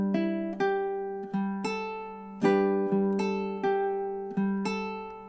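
Fingerstyle ukulele melody, the first two measures of a summery tune, plucked notes ringing out in a steady rhythm, close and clear with no voices.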